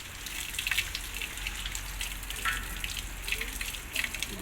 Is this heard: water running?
yes